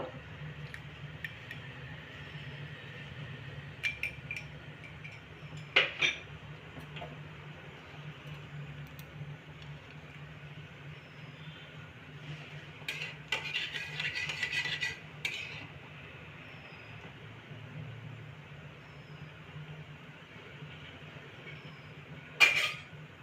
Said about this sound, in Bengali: এবার আমি কড়াইয়ে ঘি দিয়ে এটাকে ভেজে নেব